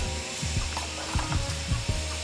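A hand ratchet wrench tightening parts down, a fast series of dry clicking pawl ratchets in short irregular bursts, close and fairly loud, with no voices.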